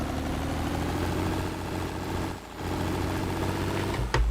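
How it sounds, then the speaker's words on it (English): An old engine runs steadily while driving at road speed on a winding road, a continuous mid-low drone at close range with a brief dip in the middle and a short knock near the end, with no talking. "Listen to that old engine."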